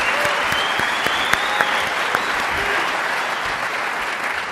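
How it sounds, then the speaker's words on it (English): Audience applause at a real estate listing presentation event, a steady wash of many hands clapping with a few sharper claps standing out, sustained and fairly close for the whole stretch. "Let's give him a nice round of applause."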